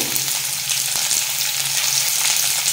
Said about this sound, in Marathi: गॅसवर आपल्याला हा पूर्ण मसाला परतून घ्यायचा आहे